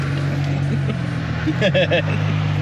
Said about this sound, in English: Big backfire.